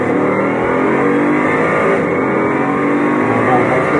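A car engine revs and pulls hard after a downshift into second gear, a loud continuous roar with rising strain filling the whole clip, with people talking over it inside the car.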